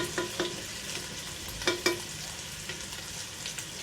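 Green chillies frying in hot oil in a pan for an aloo tahari (spiced potato rice), giving a steady close sizzle with a few sharp clicks and scrapes from a spoon.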